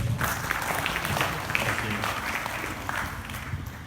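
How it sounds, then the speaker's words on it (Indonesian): Applause from an audience at an Islamic Quran-interpretation lecture, welcoming the speaker; a steady, moderately loud wash of clapping that holds across the whole stretch with some crowd murmur mixed in. "Sebelumnya beri tepuk tangan kepada pemateri."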